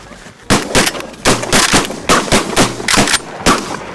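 Shotgun blasts during a waterfowl hunt on the Canadian prairie, about eight loud, close reports fired in quick irregular succession with short echoing tails.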